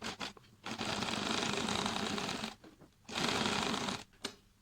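A sewing machine runs a straight stitch at a stitch length of about 2.5, with trouble in the lower bobbin thread. It whirs in two steady bursts separated by short pauses and small clicks.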